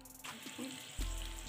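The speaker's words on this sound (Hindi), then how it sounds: "पानी खौलने लगा है।" Water coming to a boil in a pan for khaman dhokla syrup, a steady close hiss and bubbling that swells louder partway through, with no talking.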